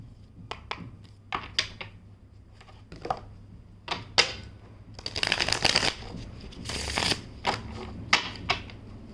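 A tarot deck being shuffled by hand in a series of quick riffling bursts and card slaps, close and fairly loud, with no talking.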